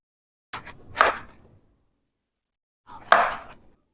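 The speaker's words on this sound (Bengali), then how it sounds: "বেগুনটা আমি মাঝ বরাবর 2 ফালট করে কেটে নেব।" A knife cutting fresh tender eggplants in half on a board: two quick close chops, then a pause and a third sharp chop, with no talking.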